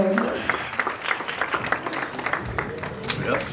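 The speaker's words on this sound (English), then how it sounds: "Keep the applause and the cheers coming." Audience applause and cheers at a Bollywood red carpet premiere event come as dense, continuous clapping from a sizeable crowd. A presenter's voice briefly cuts in at the start.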